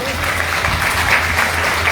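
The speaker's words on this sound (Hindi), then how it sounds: "एक बार अपने भी जोरदार तालियां बजा लीजिए" An indoor audience at a network-marketing business seminar claps loudly and continuously, a dense steady wash of applause, with a voice speaking faintly underneath.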